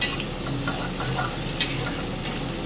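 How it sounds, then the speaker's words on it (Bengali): Onions with a pinch of salt fry in a pan with a steady, close sizzle, and a spoon stirs and scrapes against the metal a few times. "পেঁয়াজটা ভাজার সময় নুন দিলে পেঁয়াজটা নরম হয়।"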